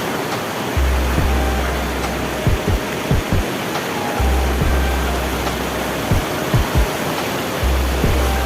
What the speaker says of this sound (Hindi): तो देख सकते हैं आप सभी कितना पानी तेजी आ रहा है यहाँ पे।